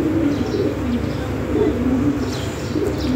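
American Cent pigeons coo in low, repeated throaty calls up close, with faint chirps above them and no talking.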